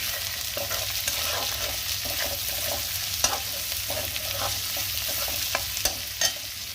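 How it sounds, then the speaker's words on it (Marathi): Chopped onion and fresh green chickpeas are stir-fried in a pan for a winter vegetable dish, with a constant low sizzle beneath frequent light scraping and stirring clicks from a spoon. "आता मस्त कांदा हरभरे परतून झालेले आहेत"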